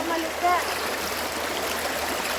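Mountain water rushes steadily through a hose line, a continuous close hiss and gurgle, with a brief voice over it.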